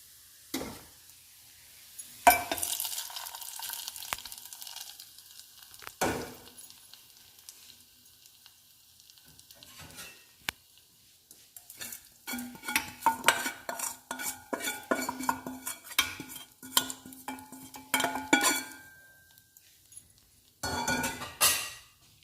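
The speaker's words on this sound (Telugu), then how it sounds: "తాలింపు కలుపుకుందాము." A sizzling garlic and curry leaf tempering is stirred into red lentil and amaranth dal with a metal spoon, giving repeated scraping clinks against the pot, bursts of sizzle, and busy stirring over a long stretch without talk.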